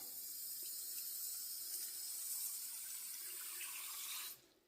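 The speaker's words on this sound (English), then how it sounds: "We'll go ahead and get some water in, and I go just below the top level of rock." Water runs steadily from a tap into a rotary rock tumbler barrel filled with desert jasper rocks, a continuous close hiss that cuts off near the end.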